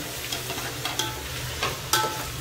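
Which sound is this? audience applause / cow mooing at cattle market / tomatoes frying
tomatoes frying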